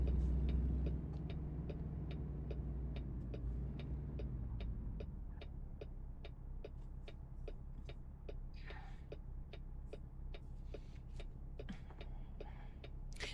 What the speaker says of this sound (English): The traffic noise is on.